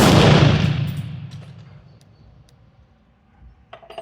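A single loud M16A1 rifle shot on a 100-yard range, with a sharp blast up front and a long reverberant tail fading over a few seconds, followed by faint clicks and handling noise.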